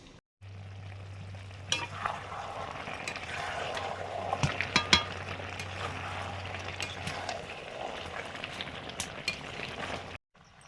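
Fried side dishes cook in a kadai with a soft steady sizzle, punctuated by clinks and scrapes of stirring, with a low hum underneath.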